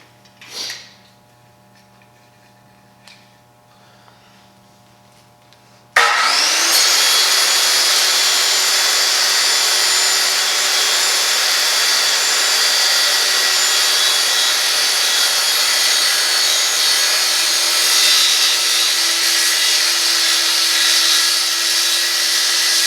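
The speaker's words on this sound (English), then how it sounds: "we have a metal cutting blade for our saw, and that'll help cut the aluminum instead of using like a sawzall or a jigsaw" A saw fitted with a metal cutting blade slices through aluminum for a Jeep tailgate table, starting abruptly after a few seconds of quiet with faint handling noises, then a loud, steady, high-pitched whine that holds for the rest of the clip.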